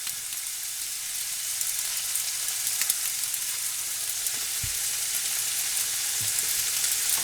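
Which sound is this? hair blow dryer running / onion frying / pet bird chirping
onion frying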